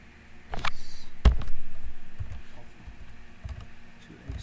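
Clicky keystrokes on a computer keyboard, an irregular run of taps at close range in a quiet room with faint background noise.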